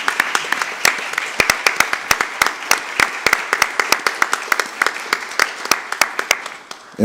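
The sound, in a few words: audience applause for Coach Easton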